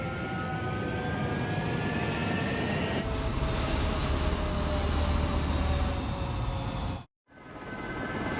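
Jet fighters taking off in the video game Ace Combat 7, heard as a loud, sustained engine roar with whining tones that builds and then cuts abruptly near the end, with no talk.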